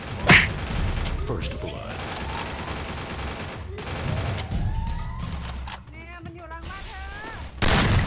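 Gunfire in the Free Fire mobile battle-royale game, a burst of shots at the start followed by continuous game noise with rising whistle-like effects, while a player talks over it.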